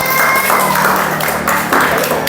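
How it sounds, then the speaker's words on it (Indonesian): Classroom students clap for a classmate named Nabila after her answer, a brief loud burst of dense hand claps filling the room, with faint voices mixed underneath. "Tepuk tangan buat Nabila"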